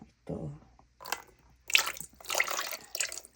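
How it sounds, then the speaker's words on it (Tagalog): A little water is poured onto baked chicken teriyaki, giving short splashing and dripping bursts separated by pauses, fairly close. "Lagyan natin ng kaunting tubig itong ito."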